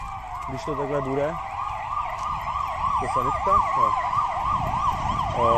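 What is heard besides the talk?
ambulance siren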